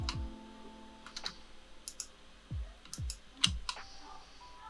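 Sharp mouse clicks sound while selecting edges in Blender, a handful of isolated taps spaced irregularly over a quiet background with faint low hum and no talk.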